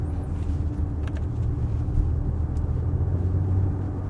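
Inside a moving 2026 Genesis GV70 Electric, a synthetic engine hum imitates a combustion motor with virtual gear shifts. It comes through as a continuous low rumbling drone under road noise, with no voices.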